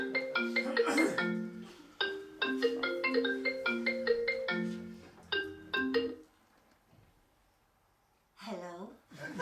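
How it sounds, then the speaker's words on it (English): A telephone rings in repeated trilling bursts, loud and close, in a comedy sketch setting; the ringing stops and a voice speaks briefly near the end. "Phone, Terry."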